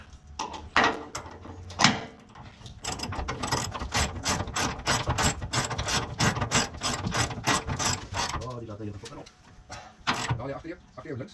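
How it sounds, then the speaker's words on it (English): A hand ratchet tightens the last bolts while fitting air bag suspension to a Toyota Hilux Rugged X, producing a long run of rapid, evenly spaced clicking strokes, close and clear, with brief clunks at the start and end. "I'm just tightening up these last 2 bolts."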